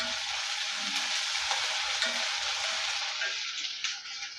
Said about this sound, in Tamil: இஞ்சி பூண்டு பேஸ்ட்டு சேர்த்துக்கிறலாம் சேர்த்துட்டு வதக்கி எடுத்துக்கலாம்